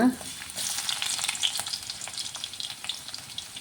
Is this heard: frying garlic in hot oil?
yes